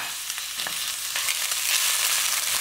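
Ginger garlic paste sizzling in hot oil in a pan for chana masala, a loud, steady hiss of frying with faint stirring scrapes, close up, with no talking.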